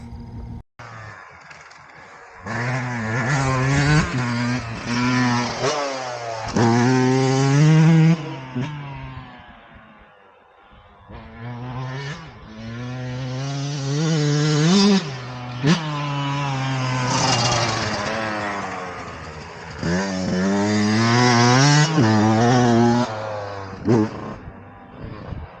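A vehicle engine revs up and down during a quick test lap on a track. It sounds loud and close, with sustained rising and falling pitch and a short dip near the middle.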